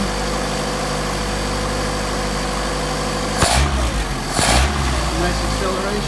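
A Mercedes 190SL engine with Solex 44PHH carburetors holds a steady 1500 RPM, giving a continuous close engine drone. Two brief bursts of louder noise break in near the middle.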